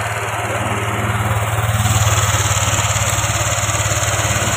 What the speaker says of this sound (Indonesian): Kita hidupin motornya.